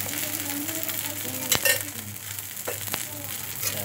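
Dosa frying in oil on a pan at home, with potato filling, gives a steady continuous sizzle close by, broken by a couple of brief sharp clatters from utensil contact.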